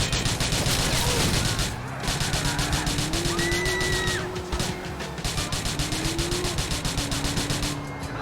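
Rapid gunshots in the video game Grand Theft Auto IV, a fast steady train of loud shots through most of the stretch, with short pauses, vehicle noise and a few tonal sounds mixed in.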